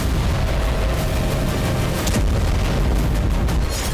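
Russian strikes hitting Kyiv produce a dense, continuous roar of rumbling booms and blasts, loud and unbroken from start to finish.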